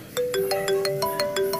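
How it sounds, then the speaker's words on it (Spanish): A mobile phone rings with a repeating melodic tone, each note sounding in a quick pulsing pattern, close and clear with no talking. "Yo siento como que el teléfono me está vibrando."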